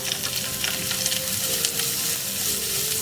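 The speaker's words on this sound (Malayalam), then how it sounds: "സവാള ഒന്ന് നന്നായി വാടി വരുന്നത് വരെ നമുക്കൊന്ന് മിക്സ് ചെയ്ത് കൊടുക്കാം." Chopped onion and green chilli fry in a pan while being stirred, a steady close sizzle with scraping stir sounds and no voices.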